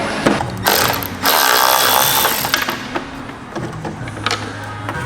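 Phillips head screws being backed out of a turn signal bezel on an OBS Ford F350 with a power tool, giving bursts of whirring and clicking that come close and fairly loud, with brief pauses between them.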